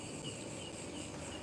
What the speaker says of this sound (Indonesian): Jangkrik itu mas, itu kan binatang kecil ya.